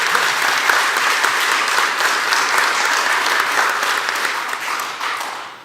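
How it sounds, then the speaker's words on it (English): Dense, loud applause from an audience at a county board of supervisors business meeting, a continuous wall of clapping that holds steady before fading gradually near the end. "Let's please give these men and women another round of applause."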